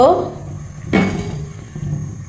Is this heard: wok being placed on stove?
yes